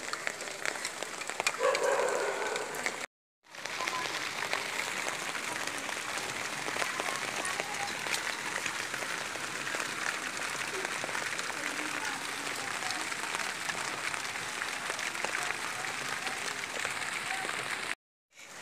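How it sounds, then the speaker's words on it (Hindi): Steady rain patters on garden plants and flowers for nearly the whole stretch, a dense continuous hiss with a brief gap near the start and another near the end. "हमारे यहाँ बारिश होने लगी, रुक रुक बारिश होने लगती है"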